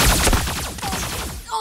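Continuous rapid gunfire in the mech battle game Super Mecha Champions, loud and dense, with overlapping shots and game effects filling the whole moment.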